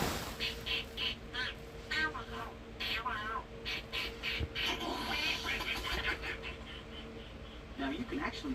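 Mouth-blown duck call imitations, with a voice producing a string of rapid nasal quacks in uneven bursts, close and fairly loud, some overlapping as if two calls sound at once.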